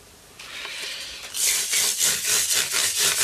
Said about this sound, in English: I'm going to sand it down now with a very fine sandpaper. 3000.